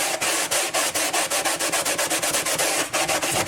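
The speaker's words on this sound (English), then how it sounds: "I've got just regular old dish soap here on this sponge, and I'm just going to scrub it down." A sponge with dish soap scrubbing an incubator, producing a quick regular back-and-forth rubbing rhythm, close and loud, with no voices over it.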